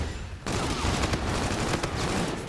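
Grenade blasts in a Titanfall 2 hardpoint match on a multiplayer map, a sudden loud burst of rapid gunfire-like cracks and booms that continues densely for a couple of seconds, up close with no speech.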